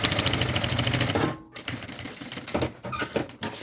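A sewing machine topstitches a seam through thick synthetic layers on a pink wheeled travel suitcase, a fast rattling stitch that stops briefly, then resumes in shorter uneven bursts.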